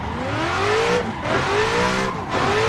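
A V8 race car engine in a sim racing video game, loud and close, revving up in three rising sweeps with brief dips between shifts, a harsh, brutal roar.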